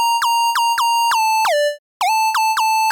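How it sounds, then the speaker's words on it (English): A Serum synth lead sounds repeated bright notes, each opening with a fast downward pitch swoop before settling, in a quick rhythmic pattern with a brief gap in the middle; loud and alone. "we hear the pitch starting higher and going lower really fast at the beginning of each of the notes"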